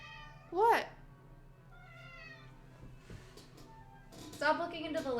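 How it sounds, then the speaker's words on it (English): Remy, a house cat, lets out a sharp, close meow near the start, then fainter, softer vocal sounds and light household noises follow. A louder, rougher cat cry comes at the end. "Meow, kitty, leave me alone."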